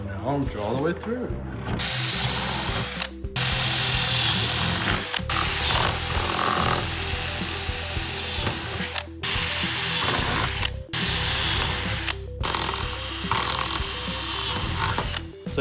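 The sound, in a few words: power drill drilling through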